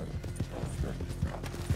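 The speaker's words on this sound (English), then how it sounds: "There's another random horse that's really pretty going down the mountain." Horse hooves clip-clop at a steady walking rhythm in the video game Red Dead Redemption 2, soft rounded thuds spaced about every half second over a low ambient bed, moderately near.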